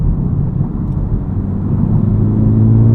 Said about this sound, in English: you definitely pick up on any extra tire noise that comes through the cabin